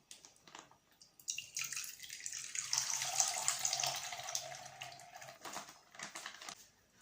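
Kefir pours steadily from a packet into a bowl for several seconds with a soft splashing hiss, close and fairly quiet, then trickles to a stop.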